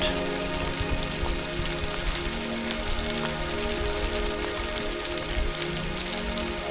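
Continuous dense pattering of sleet falling on surfaces, a steady fine hiss with scattered light ticks, moderately quiet and even throughout.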